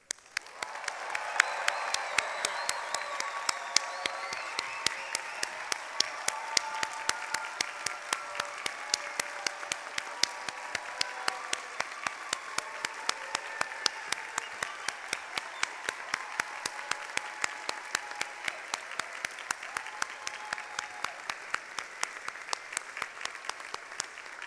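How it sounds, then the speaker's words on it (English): Sustained applause at a School of Nursing commencement honouring the Class of 2024 graduates, a dense, steady wash of many hands clapping from a large audience for the full stretch, with no talk over it. "join me in congratulating all of the graduates"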